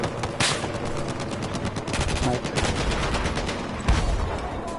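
Dense gunfire rattles through a hardcore Battlefield 4 match, with rapid automatic bursts and sharp individual shots layered loudly and nearly continuously in the foreground.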